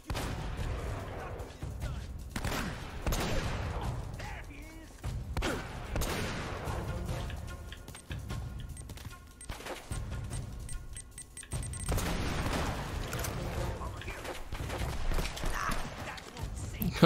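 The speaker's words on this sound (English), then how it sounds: "Covering fire." Gunfire in Uncharted: Drake's Fortune, repeated sharp shots and bursts scattered through a noisy firefight over about seventeen seconds, with talking mixed in.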